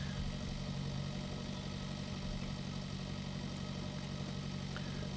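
A tractor engine idles steadily in the farming game Pure Farming 2018, a constant low rumble with faint vibration and no other sounds.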